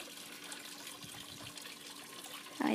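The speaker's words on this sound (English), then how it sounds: "I love the sound of water." Water trickling steadily in a faint, continuous stream, with a brief louder splash near the end.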